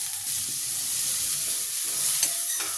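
Onion and green chilli sautéing in butter produce a steady, even sizzle heard up close, with occasional faint scrapes of stirring and a brief sharper crackle late on.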